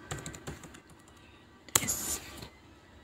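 Keys clatter on a computer keyboard in a quick burst of close, light taps, then a pause, then a sharper key press with a short rattle.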